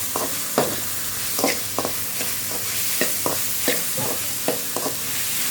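Ginger garlic paste frying with onion in a pan for chicken curry, giving a constant hiss under repeated scraping strokes of a spoon, close up and without any voices.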